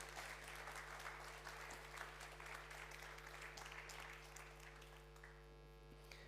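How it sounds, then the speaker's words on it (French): An audience applauds to welcome two speakers onto a stage, a sustained wash of clapping over a steady low electrical hum, tapering slightly toward the end. "Je vous demande d'accueillir, sous les applaudissements nourris évidemment, Muriel Garcia et Bruno de Montalivet"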